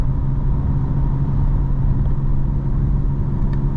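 A 900 hp 2025 BMW M4 Competition turbo engine under steady load, a loud continuous low rumble and drone from inside the car with no clear spikes or revs.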